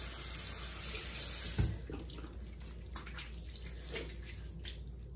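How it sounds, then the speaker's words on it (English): Hot tap water running into a sink while a Norwex cleaning cloth sample is rinsed, pressed and agitated, a continuous close splashing stream with shifting gurgles and a brief louder splash. "I'm gonna rinse it out with hot water"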